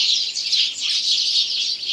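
Many sparrows chirp at once in a dense, continuous twittering chorus among ducks at a zoo, bright and fairly close, with no voices.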